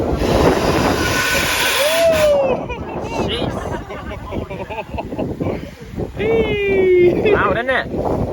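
A miniature railway train runs loudly through a seaside park at South Shields, a rumbling, clattering roll with rising whistle-like squeals, while a crowd's voices mingle under it.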